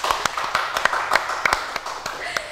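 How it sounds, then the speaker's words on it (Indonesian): A small group claps in a podcast studio, a handful of distinct, sharp hand claps in an uneven rhythm, close and fairly loud, with a few voices faintly underneath. "boleh tepuk tangan dulu teman-teman."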